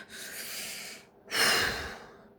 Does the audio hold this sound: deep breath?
yes